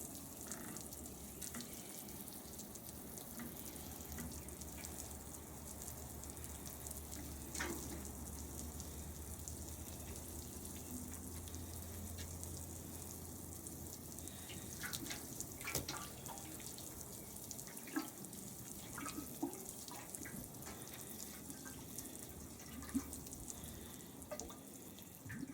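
Water rinsing a carpet during at-home carpet cleaning, a steady running splash and trickle that continues throughout with occasional drips and small splats, close and fairly loud, with no talking.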